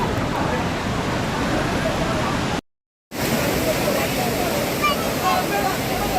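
Loud, steady rush of a clear, cold stream in monsoon flood flowing strongly, filling the clip, broken by a brief moment of silence before the roar resumes.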